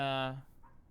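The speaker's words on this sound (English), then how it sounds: "I think Dougie wants to come and join the daily, but no dogs allowed." A dog named Dougie lets out a single short whining bark-like yelp, close and brief, fading into quiet.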